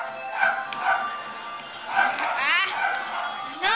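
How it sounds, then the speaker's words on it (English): A dog barks in several short bursts, some yipping and whiny, mixed with background chatter and noise. "my dog's barking"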